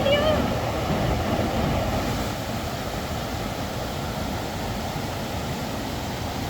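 Rushing water at a stream crossing near Kalu waterfall in Maharashtra makes a steady, dense roar mixed with wind buffeting the microphone, constant and fairly loud throughout.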